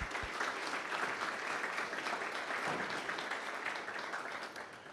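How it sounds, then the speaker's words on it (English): A conference audience at an infrastructure event applauds its sponsors, a sustained, fairly distant wash of clapping that holds steady and begins tapering toward the end, quiet overall with no talk over it. "another round of applause for all of our sponsors"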